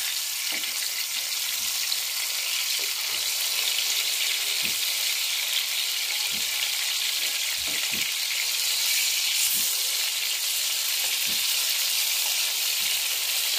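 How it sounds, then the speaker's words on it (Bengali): Tilapia fish frying lightly in oil, a steady close hiss of sizzling fat with scattered small pops and crackles running evenly throughout, no voices. "আজকে এখন আমি মাছ ভাজি করতেছি। এটা হচ্ছে তেলাপিয়া মাছ"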